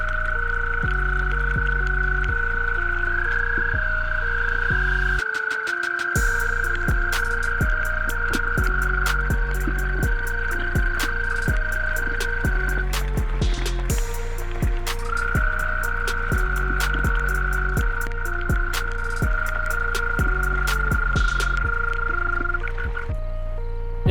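Eastern gray tree frogs call from a vernal pool in Somerset, a loud nearby chorus of pulsing trills that keeps on without pause, with a higher steady whistle-like tone running over most of it.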